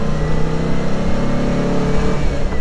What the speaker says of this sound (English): Here we go, through the gears.